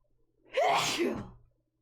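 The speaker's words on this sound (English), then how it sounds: "I feel like I gotta sneeze" A single sneeze, close to the microphone: a quick breathy intake followed by a sharp, explosive burst that trails off.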